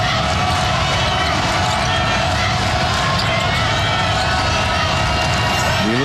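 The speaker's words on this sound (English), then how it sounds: "DeLaSalle, good crowd, loud crowd here this afternoon." Loud crowd noise fills a girls' high school basketball state semifinal, with cheering throughout and a ball bouncing on the gym floor beneath the steady roar.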